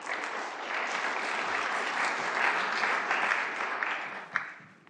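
Steady applause from an audience at a Liberal Judaism celebration, welcoming the Rabbi and President of Liberal Judaism, sustained clapping that fades out near the end.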